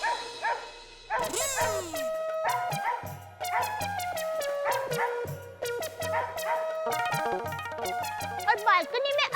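A dog barks repeatedly in a lively burst of yips and barks, close by, over and around people talking and background music.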